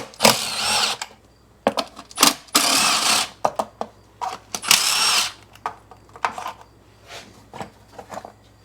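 A power tool spins out three 10mm bolts from the ignition coil shroud of a Nissan X-Trail T30, heard as several short, loud whirring bursts of varying length separated by brief pauses and small clicks.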